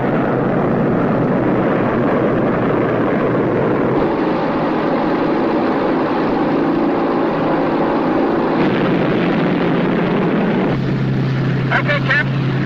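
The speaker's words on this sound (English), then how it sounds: "Enemy aircraft coming close below." Enemy aircraft fly close overhead in a war film, a loud continuous droning propeller roar that shifts and thins toward the end, with a faint whine and rumble underneath.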